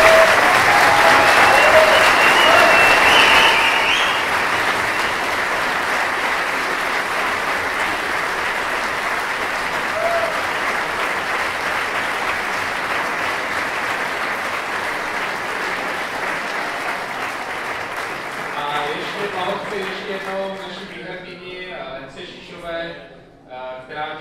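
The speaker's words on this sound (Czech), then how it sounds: "Takže potlesk." An audience at a FuckUp Nights Prague talk claps, loud and sustained at first, then the applause slowly thins out and gives way to voices near the end.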